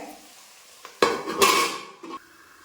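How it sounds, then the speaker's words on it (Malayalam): Chicken being sautéed and stirred in a pan, with a few utensil scrapes and clanks against the pan over a soft sizzle, a short burst of stirring in the middle. "ഇതൊന്ന് വേവിച്ച് വഴറ്റി എടുക്കാം. വഴറ്റിക്കട്ടെ."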